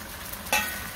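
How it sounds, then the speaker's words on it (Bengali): Hilsa fish dropped into a nearly finished vegetable curry in a pan sets off a sudden short sizzle that quickly settles into a soft, steady frying hiss, faint and close. "আমার তরকারিটা প্রায় হয়ে গেছে, মাছটা দিয়ে দিই, মাছটা দিয়ে রান্না করবো।"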